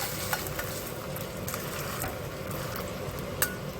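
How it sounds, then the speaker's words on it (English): A salmon fillet laid skin side down in a hot pan, crackling and sizzling steadily and loud up close, with a faint clink of utensils now and then. "I'm going to lay the fish down with the skin side first."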